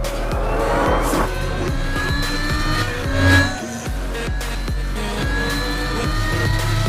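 A BMW Alpina B8 Gran Coupe, a 2022 model, drives hard in sport mode, its engine note loud and rising and falling with revs, with brief tire noise as it pulls away.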